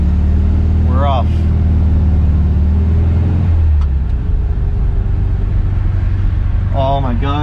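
A 1965 Volkswagen Beetle drives along, its engine droning steadily and close and then dropping in pitch partway through, while a voice speaks briefly at the start and again at the end.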